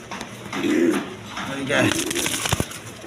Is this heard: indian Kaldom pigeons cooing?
yes